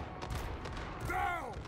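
Cannons fire in a Total War Warhammer 3 battle, giving a rough rumbling volley of blasts and battle noise that ends in a ringing, wavering tone, with no one talking.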